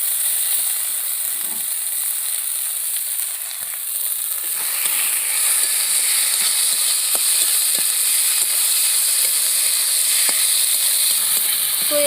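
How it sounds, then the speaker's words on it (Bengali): Soybeans and potatoes fry in hot oil with a steady, loud, crackling sizzle that runs unbroken throughout, with no talk. "সোয়াবিনগুলো ভালো করে ভেজে নেব তো আমি এবং এর মধ্যে এবার কুড়িয়ে রাখা আলুগুলো দিয়ে দেবো"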